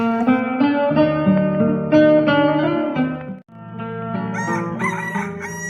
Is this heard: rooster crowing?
yes